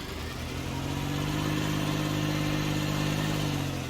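A Case IH 235 lawn tractor engine driving in Farming Simulator 19, a steady, loud, even engine drone with a constant pitch and no talk over it.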